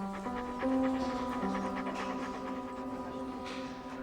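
A gentle dog pants in quick, steady breaths close by, with faint tonal background hum underneath and no speech.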